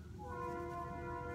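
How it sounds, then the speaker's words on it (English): A passing train sounds its horn, a long steady blaring tone heard at a moderate distance over a low rumble. "Sorry for the train."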